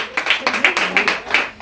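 Audience clapping in a series of irregular bursts, fairly close and moderately loud, with no talk over it.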